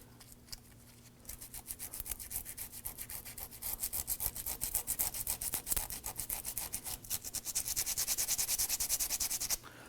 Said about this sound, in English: Now I'm going to use a little piece of sandpaper here and I'm just going to gently go around the perimeter here